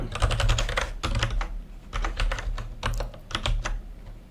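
Rapid typing on a computer keyboard while writing a program in a text editor, with dense bursts of close, crisp key clicks broken by brief pauses, no voices.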